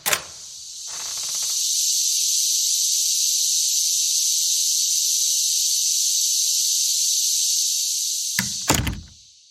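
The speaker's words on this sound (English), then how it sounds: "we go to the cicadas right outside our office door" Brood X periodical cicadas chorus outdoors just outside an office door, a dense, unbroken high buzzing drone that swells in and holds steady for several seconds, framed by a few soft thumps at the start and end.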